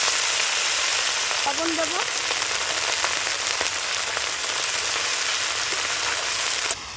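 Bathua greens fry in hot oil with dried red chili and mustard seeds, a steady, loud, even sizzle lasting throughout, with a brief spoken remark near the start.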